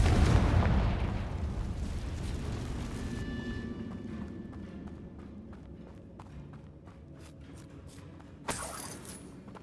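A Confringo spell blast in Hogwarts Legacy opens with a loud, booming explosion that rumbles and decays over several seconds, then gives way to quieter game sounds and a sharp burst near the end.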